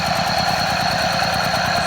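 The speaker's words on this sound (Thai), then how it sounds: "เครื่องยนต์แปดแรงครับ" A small eight-horsepower engine idles steadily at close range, a continuous low chugging rumble with a faint high whine, no voices.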